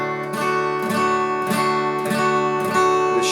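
A guitar chord strummed on four strings in a kids' lesson, repeated in several even strokes about every three-quarters of a second, each stroke ringing into the next at moderate loudness with no talking.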